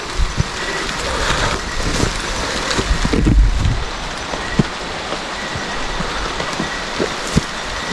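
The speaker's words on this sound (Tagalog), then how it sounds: "Malakas talaga ng ulan wala na talaga" Heavy rain pours steadily, a dense loud hiss with occasional thumps and knocks, no one speaking.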